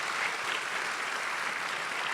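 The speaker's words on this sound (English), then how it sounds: "I want to get a nice round of applause for our panelists." A live audience applauds panelists Esmeralda Santiago, Tiphanie Yanique and Frances Robles, a steady, even wash of many hands clapping at moderate loudness from start to finish with no voices over it.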